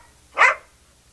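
A single short, close bark from a dog being put through tricks like rolling over, sharp and loud against a faint low hum.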